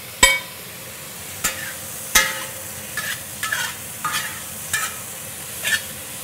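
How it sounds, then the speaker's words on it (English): Already-cooked asparagus with sesame seeds searing in a hot pan, with sharp utensil clacks and scrapes at irregular intervals over a soft, steady sizzle. "We're just warming it up and getting a nice little sear on it."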